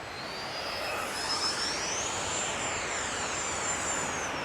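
An FMS 64mm EDF J-10 radio-controlled jet flies past with a steady, loud ducted-fan whine that sweeps upward in pitch and then falls away, with no pauses.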